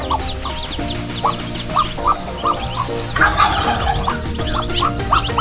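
Turkey gobbling in a farmyard pen among hens and chicks, with repeated loud, close gobbles and clucks over a steady bed of mixed fowl noise.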